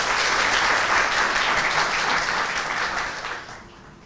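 A hall full of guests at a hospital's 25th anniversary celebration applauds to welcome the Zeytinburnu district governor, a dense, even roar of clapping that holds for about three seconds and then fades away.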